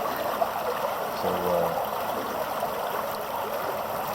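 A small creek running by a field in a wooded creek bottom, its steady trickling flow heard close and alone, with a faint brief tonal sound partway through.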